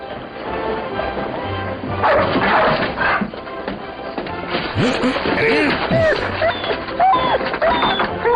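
Dogs barking and yipping at close range, overlapping with mechanical clatter and speech-like voices throughout.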